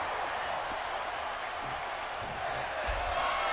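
A virtual arena crowd in a digital wrestling video game chants "this is awesome": a dense, steady roar of many voices, loud and continuous throughout.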